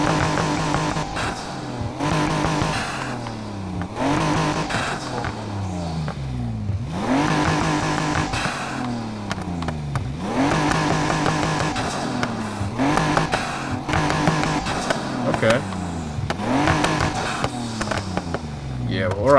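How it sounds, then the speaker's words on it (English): A car exhaust revs repeatedly in the video game Need for Speed Heat, rising and falling in pitch with loud throaty roars and pauses between each push of the throttle. "exhaust noise, here we go."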